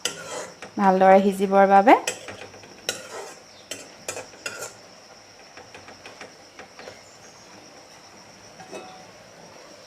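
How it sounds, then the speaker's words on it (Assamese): Mashed taro (kochu) is stirred in a pan, a spoon scraping and clinking against metal in a quick burst of strokes, then scattered lighter taps over a faint steady hum, while a voice speaks briefly. "এতিয়া মই ভালদৰে লৰাই ল'ম।"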